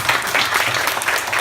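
Brief burst of congregational applause in a church service celebrating members' recovery from illness and surgery: a full, even patter of many hands clapping throughout.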